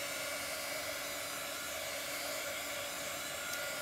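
A dryer blows a steady, unbroken whir over chalk paint on a small wooden house, alone and without any talking.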